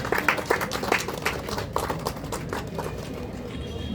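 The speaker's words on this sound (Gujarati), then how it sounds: "આપણે જોરદાર તાળીઓથી વધાવી લઈશું." Crowd at an exhibition inauguration in Ahmedabad, Gujarat applauds with loud, uneven clapping, sharper bursts early that thin into a looser, fainter patter toward the end amid a busy background.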